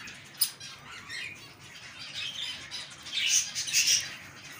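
Fancy pigeons eat and feed their chicks up close, with soft squeaky begging calls, a sharp squawk near the start and light fluttery rustling, all fairly quiet.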